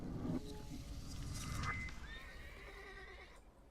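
A horse in The Thaumaturge video game lets out a clear whinny with rising and falling tones over a dense background of game ambience, with faint hoof clopping mixed in.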